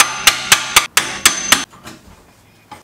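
Metal hammer blows on a car's rear axle while the bushings are replaced: six rapid, evenly spaced strikes, then a pause and one final lighter tap, close and ringing.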